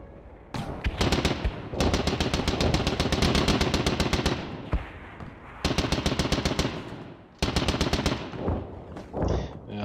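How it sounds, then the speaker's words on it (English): A Maxim machine gun fires in a First World War tactics game, several long rapid bursts of loud close gunfire separated by short gaps. "I guess they fired with the machine guns. Mr. Maxim MG8 and disabled this Renault."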